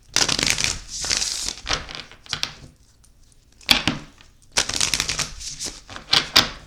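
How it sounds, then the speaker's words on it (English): A deck of cards being shuffled by hand in bursts of dense riffling clatter, close and fairly loud, with brief pauses between shuffles and no talk. "Alright, one more shuffle, please."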